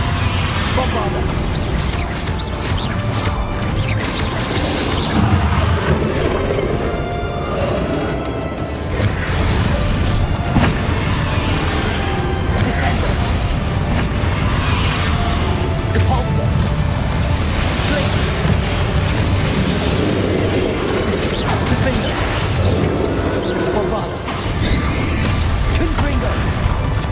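Repeated spell blasts and crashing explosions in the Hogwarts Legacy video game, loud and dense throughout under game music and voices, with bursts landing every few seconds.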